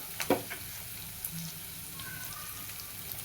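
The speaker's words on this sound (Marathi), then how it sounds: "चांगलं परतून यायचं ह्याला तेलामध्ये" Bottle gourd pieces sautéing in oil for kofta curry, a faint steady sizzle with a few light clicks and stirring touches near the start, quiet and close.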